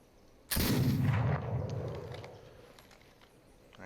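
A single loud gunshot in the video game This Land Is My Land, a sudden sharp crack followed by a long, rolling echo that fades slowly. No voices.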